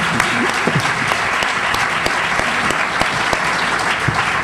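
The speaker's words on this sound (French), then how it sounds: "je vous demande encore d'applaudir notre invité fortement" An audience at a talk on democracy gives an invited guest strong, sustained applause, a thick wash of clapping with a few sharper individual claps standing out.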